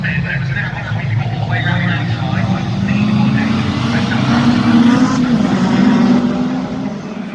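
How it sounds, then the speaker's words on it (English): A Yamaha 1250cc powered Legends race car racing at Brands Hatch in November, its engine a loud continuous drone that swells and holds as it passes, with a commentator talking over it. "It's a 1250cc Yamaha powered body rocket."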